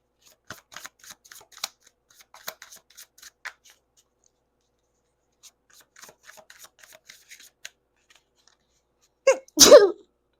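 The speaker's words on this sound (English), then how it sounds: "Where's the sneeze? And then it just came." Faint scratching and rustling taps come and go, then one loud, close sneeze bursts out near the end.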